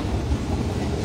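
Nozomi Super Express bullet train rumbling at a station platform on the line to Kyoto, a steady low rolling roar mixed with wind, heard briefly from close by.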